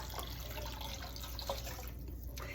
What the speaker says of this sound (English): I'm gonna add some more water.